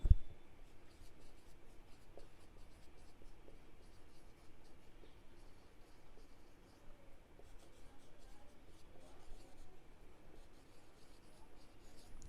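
A pen writes accounting entries for depreciation on machinery, making a faint, continuous scratching and rubbing across paper that carries on quietly throughout.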